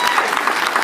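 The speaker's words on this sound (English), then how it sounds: "Hey, I want y'all give her a round of applause," An audience at a DJ conference panel claps in a brief burst of dense applause, close and lively, with a voice mixed in.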